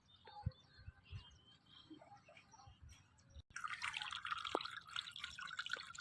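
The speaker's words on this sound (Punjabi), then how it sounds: "ਪੁਲ ਦੇ ਥੱਲੇ ਪਾਣੀ ਪੈ ਰਿਹਾ" Water running beneath a newly built canal bridge in a village, a faint trickle and drip at first, then a louder, busier rush of flowing water.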